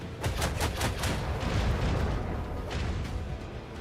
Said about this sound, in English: Let the macro cannon sing their deadly litany.